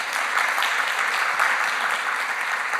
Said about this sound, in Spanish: Aplausos, si quieren aplaudir,